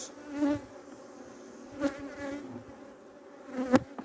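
Honeybees hum steadily around an open beehive in early spring, a continuous close buzzing drone with a few louder passes as bees fly near, no voices.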